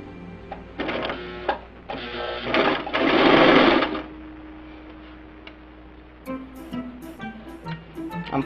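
Domestic sewing machine stitching an elastic casing on fabric, with several short bursts of rapid mechanical stitching, the longest and loudest near the middle, followed by a lower hum and light clicks as the fabric is adjusted.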